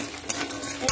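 Kashmiri chili powder and spices frying together in a pan, a short burst of steady sizzle with a couple of quick utensil clinks and stirs.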